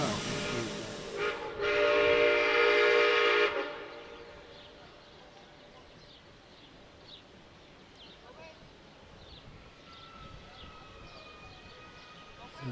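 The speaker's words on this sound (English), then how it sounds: "So this is our loco pulling away from Gwynas." Steam locomotive pulling a train out of Gwynas station, opening with a loud whistle blast for about two seconds, then a softer rumbling chuff of the train moving away, with faint voices in the background.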